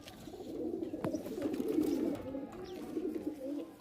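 Several high-flying pigeons coo in low, overlapping rolling calls in a loft, close by and continuous, with a faint rustle in the background.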